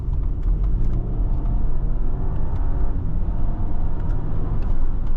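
A 2019 Audi Q8 3.0T Prestige Quattro SUV accelerating in auto mode, heard from inside the cabin as a steady, loud low engine rumble and road roar with a faint whir, continuous and without talk.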